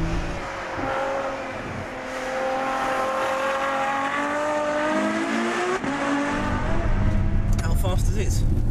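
A Ferrari F12 Berlinetta revs on the road, its engine note climbing steadily in pitch through the gears and swelling louder toward the end, close and continuous.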